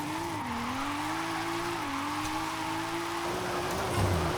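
A tuned car with very short gear ratios held sideways in a drift in Forza Horizon 5, its engine droning at steady high revs with tire squeal, a dip and rise in pitch, then a brief shift near the end.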